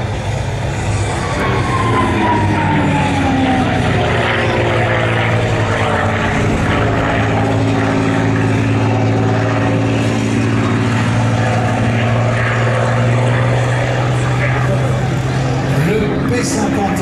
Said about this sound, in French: Le P-51 Mustang, qui va devenir symboliquement le chasseur ultime de la dernière guerre.